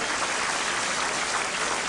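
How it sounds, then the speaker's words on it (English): Applause from a speedway crowd honouring the Coventry promoter, a steady dense wash of clapping from many hands held at an even level throughout, with no voices over it. "I want you to give him a round of applause, ladies and gentlemen"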